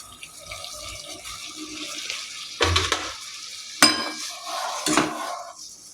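Kitchen sounds while making tea: soft clinks of a spoon and utensils, a few sharp metallic knocks and some running water, with no talking.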